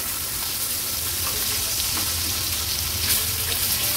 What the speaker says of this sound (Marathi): हे बघा मागची बाजू पण व्यवस्थित फ्राय झाली आहे।